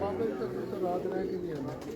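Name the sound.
pigeons cooing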